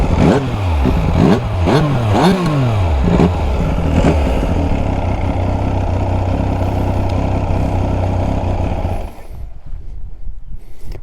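A Benelli TNT 899 S 100th anniversary motorcycle with its stock exhaust revs up and down in quick bursts, then settles into a steady, loud, throbbing idle before cutting off near the end.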